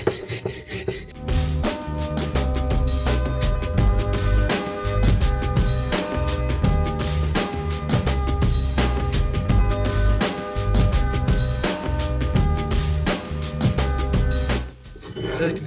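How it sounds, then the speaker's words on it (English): A stainless steel wire brush scrubs dirt off a Lotus Europa rear bearing carrier in loud, continuous rasping strokes, close up and steady for most of the stretch, with a short pause near the end. "I'm just going to take a stainless steel wire brush just going to brush off all of the dirt"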